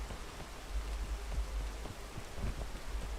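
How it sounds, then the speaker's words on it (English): Rain falls in the climbing video game PEAK, a faint steady patter and hiss with soft low rumbles underneath, no talking. "Bad timing rain, but it's fine, we're up now."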